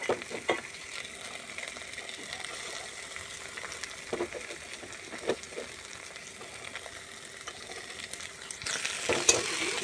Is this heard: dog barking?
no